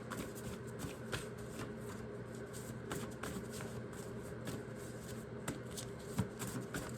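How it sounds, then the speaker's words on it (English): Index cards riffled and handled near at hand, a steady run of soft flicking and rustling over about seven seconds, with a faint low hum beneath and no speech. "I want to get some index cards to tie this together."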